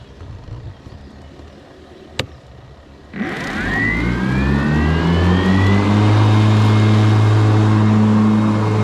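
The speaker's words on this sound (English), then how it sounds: "you can maybe hear the mower going" After a sharp click, the blades of a Ryobi battery zero-turn lawn mower spin up with a rising whine and settle into a loud, steady hum nearby.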